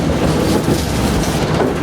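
A KTM tram runs along the rails of a single-track line in Pyatigorsk, giving a steady, close rolling rumble with a faint metallic edge.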